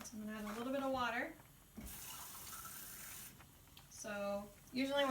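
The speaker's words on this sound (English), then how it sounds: "I'm going to add a little bit of water." Water splashes and pours into a pan for a pasta sauce in a brief, hissing stream, framed by a person talking before and after.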